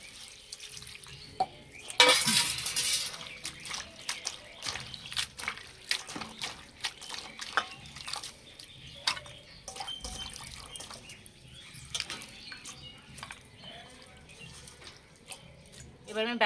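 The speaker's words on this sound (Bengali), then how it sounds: "এবার ধুয়ে জল ঝরিয়ে নেব।" Sour leafy chukur greens being washed, with water splashing and trickling from a tap into a sink, then dripping as it drains, a burst of running water early on and scattered drips and handling noises afterward.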